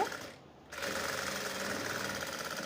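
A sewing machine stitches a two-layer blouse lining, a steady close rapid chattering run that pauses briefly near the start and then resumes.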